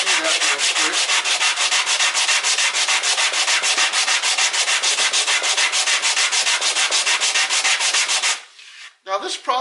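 A sanding block is rubbed by hand across wood during a guitar build, producing close, loud, rapid rhythmic rasping strokes in an even back-and-forth pattern that ends with a few slower scrapes.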